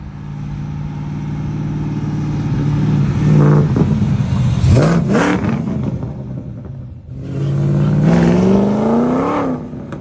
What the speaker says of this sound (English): We're going to watch a dyno pull.